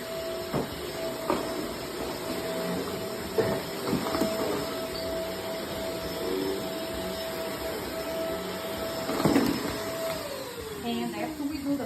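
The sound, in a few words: vacuum cleaner deep cleaning a rug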